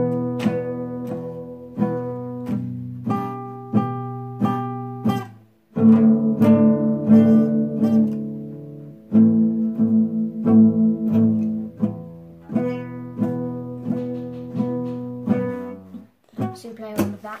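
A guitar plays a pop song's pre-chorus, strummed chords ringing out in steady, repeated patterns across a long passage, close and clear, with a brief break near the end.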